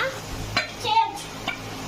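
Children washing and scrubbing bowls, with a few short clinks and rubbing scrapes of dishes close by, mixed with brief voices in the background.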